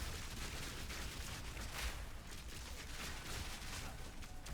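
Cluster grenades exploding in the Path of Exile 2 video game, a dense, continuous crackling barrage of small blasts at a low, steady level with no pauses.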